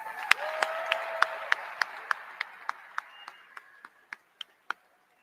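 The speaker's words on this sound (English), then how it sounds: "How about a round of applause for Robin Cook?" Audience applause in a fieldhouse at a university celebration of a men's hockey national championship: evenly spaced claps that slow and drop out one by one, a brief tonal voice-like sound early on, then silence.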